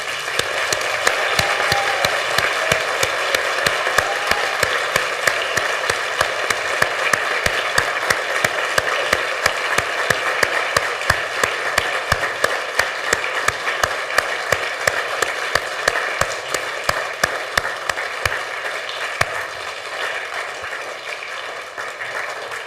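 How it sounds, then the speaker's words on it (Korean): Church congregation on its feet giving a standing ovation at an Easter service, loud dense clapping sustained for over twenty seconds, tapering slightly at the end. "다 일어나셔서 박수로 축하하시기 바랍니다"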